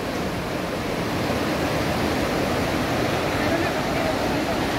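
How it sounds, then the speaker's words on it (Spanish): Constant loud rush of churning water, a dense unbroken roar with no pauses, like a swollen river heard up close; a turbulent river after rain in Orizaba, Veracruz, Mexico. "Ahorita el agua se encuentra un poco revuelta porque, como les dije, llovió."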